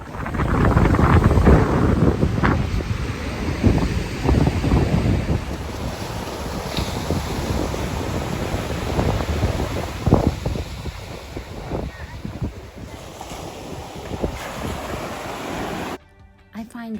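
Wind buffets the microphone at a beach in Durban while ocean waves rush and break in a steady roar, loud and near, with a voice speaking over it at times.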